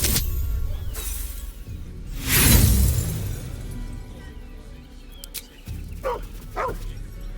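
A dog in Baldur's Gate 3 gives a few yelping barks and whimpers near a kennel yard, with a loud crashing shatter early on and a pair of short sharp yips toward the end.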